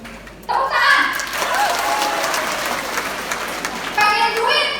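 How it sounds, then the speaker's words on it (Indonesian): An audience claps through a police-themed talk, a busy wash of hands that runs under lively voices, with a fresh burst of clapping near the end. "Tepuk tangan."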